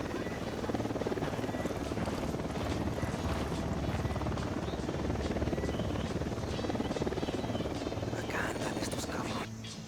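A helicopter's rotor in Tom Clancy's Ghost Recon Wildlands drones steadily in a dense, continuous whir, with voices and other game noise mixed underneath.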